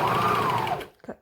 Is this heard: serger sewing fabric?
yes